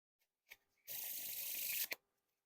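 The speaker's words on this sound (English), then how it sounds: "Now time for a giant fan of the faces." A deck of Standard Cardistry-Con playing cards by Art of Play spread into a giant fan, a close, crisp, continuous papery rasp lasting about a second, preceded by a soft tap and ending with a brief snap.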